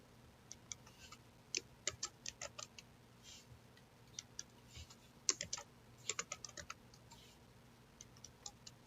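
Typing on a computer keyboard in irregular bursts of soft, close key clicks with short gaps between them, over a faint background hum.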